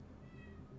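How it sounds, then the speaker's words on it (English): A cat meows once, briefly and faintly, over a low steady hum in an indoor room. "Meow."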